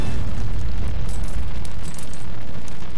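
Shell hits exploding in the tank combat game Hills of Steel, a dense, continuous rumbling barrage of booms with heavy low-end, loud and sustained throughout without a break.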